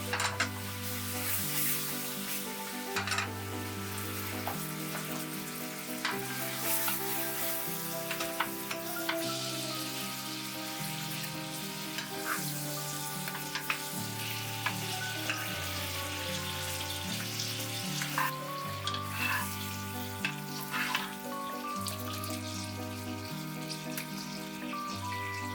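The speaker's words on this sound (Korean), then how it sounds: "마지막으로 버터를 넣고 섞어 캐러멜 소스를 만들어줍니다." Butter being stirred into a caramel sauce in a pan with pork chops, making a continuous close sizzle and bubbling with occasional stirring scrapes under steady background music.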